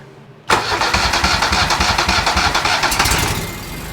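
A Toro ZMaster mower engine, still leaking oil after its oil cooler hoses were replaced, cranks and catches abruptly, then settles into a loud, steady, close-up running rumble that continues to the end.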